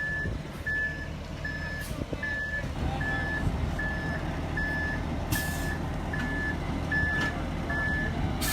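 A concrete truck on a farm pour site reverses with a steady, evenly spaced backup beep repeating throughout over a loud diesel engine rumble.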